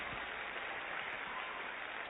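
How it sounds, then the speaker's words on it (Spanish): A church congregation applauds in a dense, steady wash of clapping with no distinct individual claps, fairly quiet and continuous throughout, with no speech over it. "Dale un aplauso fuerte a Dios por lo que escuchaste"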